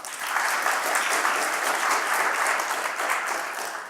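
Sustained audience applause at a tech conference meetup, steady dense clapping from a crowd filling the whole stretch with no talk over it.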